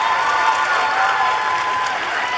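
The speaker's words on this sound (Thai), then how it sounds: "ขอเสียงปรบมือให้กับ8คนสุดท้ายที่เดอะสตาร์คนฟ้าคว้าดาวครับ" An audience at a The Star 11 press launch applauds the final eight contestants: dense, sustained clapping throughout, with a faint crowd murmur.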